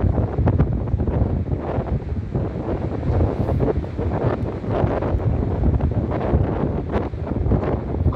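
Strong, cold wind buffets and roars in loud, continuous gusts on an empty beach at Praia da Rocha, Portimão, in the Algarve, rumbling heavily with no voices heard.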